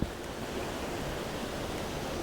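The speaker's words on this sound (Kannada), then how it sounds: "ನೋಡಿ ನಾನು ಆವಾಗಿಂದ ತೋರಿಸ್ಬೇಕು ಅಂತಿದ್ದ ಫಾಲ್ಸ್ ಇದೆ ಭೀಮೇಶ್ವರ ಫಾಲ್ಸ್" Water from Bhimeshwara Falls in dense forest rushes steadily, a broad, constant roar with no pauses and no voices.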